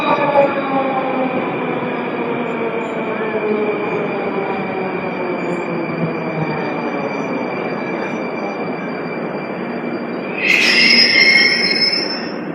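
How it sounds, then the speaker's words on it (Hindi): A metro train arrives at a station in Russia, a loud continuous rumble with tonal whine from the motors and a sharp rising wheel squeal near the end. "उससे हमें पता चल जाता है कि अब मेट्रो के आने का वक्त हो चुका है। मेट्रो आ गई।"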